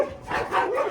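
Dogs at a shelter for rescued street animals in Colombia let out a brief, nearby burst of barking and yipping that rises and falls, with no talking over it.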